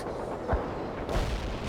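An anti-tank missile launches in the war strategy game World in Conflict, heard as two short, deep booms roughly half a second apart over a dense, rumbling battlefield background.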